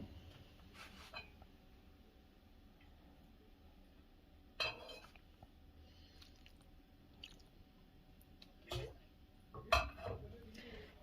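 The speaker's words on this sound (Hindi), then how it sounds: "तमाम चीज़ों का जो मिक्सचर है उसको हम अच्छी तरह मिक्स कर लेंगे।" Chicken batter is mixed in a bowl at home for KFC-style crispy chicken, giving soft wet squishing sounds with occasional sharper clinks of a utensil against the bowl, fairly quiet and close, with a voice speaking at times.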